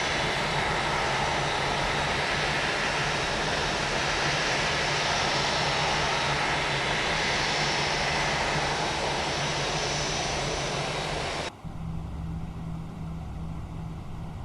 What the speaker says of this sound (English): we got a good engine start on number 2